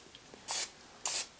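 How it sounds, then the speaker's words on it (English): Two quick hissing bursts of cooking oil spray onto mock chicken legs in an air fryer, each lasting under a quarter second, close and crisp against a quiet background. "Give it a quick spray on this side,"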